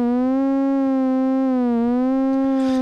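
A modular synth voice follows a CV sequence through a slew limiter, so a steady, pure-sounding tone glides smoothly up and down between pitches rather than stepping, sustained and loud throughout.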